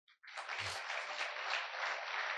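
Audience clapping at a leadership talk, a short burst starting abruptly and holding as a dense, steady patter for a couple of seconds, moderately faint.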